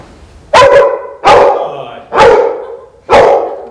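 A police dog barks four times in sharp, loud bursts spaced about a second apart, each followed by a short fading tail, with no talk over them.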